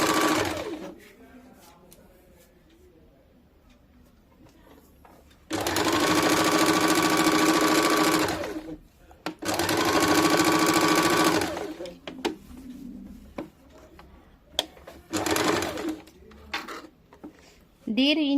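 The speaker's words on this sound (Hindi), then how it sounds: "दाहिने वाला पट्टी इस तरह से फोल्ड करके ऊपर की तरफ लाके 2 चाप सिलाई डाल देंगे।" A sewing machine runs in two long stitching bursts and a shorter third one, sewing a folded strip on a katori-cut blouse, with quieter handling pauses between runs and brief talk.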